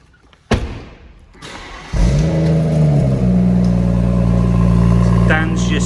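A BMW M140i engine cranks and fires at about two seconds, then settles into a steady, loud idle that continues to the end, after an earlier thud.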